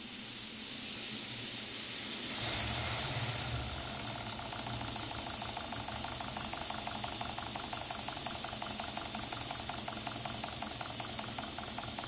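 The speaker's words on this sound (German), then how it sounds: "Auch da läuft die Maschine selbstständig an." A Stuart D10 model steam engine with new reversing gear runs on its own, giving a steady close hiss of steam over a fast, even mechanical ticking, with a louder gust of steam near the start.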